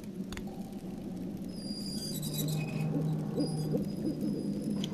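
A snowy owl hooting in the video game Syberia 2, low steady hoots carried over a soft ambient bed with faint high chimes, close and clear, lasting several seconds without speech.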